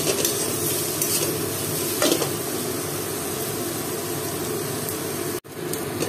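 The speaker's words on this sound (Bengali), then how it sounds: "পেঁয়াজগুলো যখন লাল লাল হয়ে যাবে ভাজা ভালো মতো তখন আবার এটা নামিয়ে নেব।" Onions for biryani sizzle steadily in hot oil while a spatula stirs and scrapes the pan, a loud continuous frying hiss with a brief clatter near the end.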